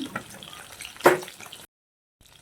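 Tilapia fish frying in hot oil, a steady crackling sizzle with a brief louder burst midway, then a short silence before the frying resumes faintly.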